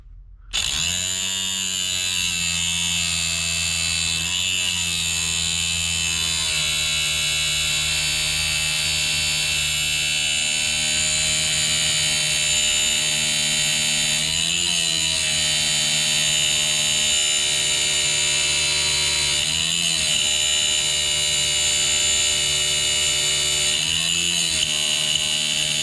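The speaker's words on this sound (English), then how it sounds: "I'm going to file 18 thousandths, between 17 and 18 thousandths off the ring" A powered ring filer grinds a piston ring end gap: a loud, steady, high-pitched motor whine hums continuously, dipping briefly about every five seconds as the ring is pressed and released.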